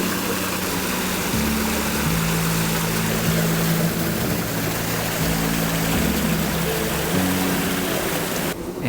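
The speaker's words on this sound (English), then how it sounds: "what we are walking over right now is the top of that giant waterfall" Water rushes steadily over the top of a large waterfall beside a fountain in Maymont Park's Japanese garden, a constant close roar with a low hum running beneath it and no voices.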